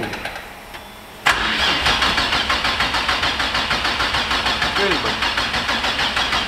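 Engine cranking then catching at about 1.3 seconds, settling into a steady, loud idle with a regular chugging pulse; voices speak briefly underneath.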